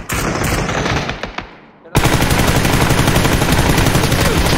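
Gunfire in the PC game PUBG: dense, loud bursts of automatic fire, a brief lull, then a sustained, unbroken barrage of rapid shots that runs to the end.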